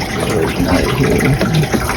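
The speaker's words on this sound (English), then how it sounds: "We'll put 3 ounces in the reservoir, and then we'll also put some in the bucket." Nickel-safe cleaner for a Manitowoc Indigo ice machine is poured into the machine's reservoir, giving a steady, close liquid pouring and gushing sound that continues for about two seconds with no talk over it.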